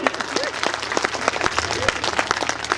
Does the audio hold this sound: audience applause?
yes